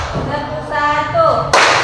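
A classroom of pupils in an Indonesian school lesson claps once together, a sharp, loud burst after a stretch of voices and chanting.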